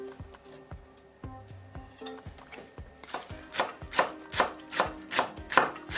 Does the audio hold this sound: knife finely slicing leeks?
yes